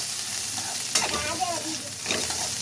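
A single small shallot sautéing in a pan for a peanut and cluster bean stir-fry, giving a steady close sizzle with a sharper burst of frying and stirring near the middle and again toward the end.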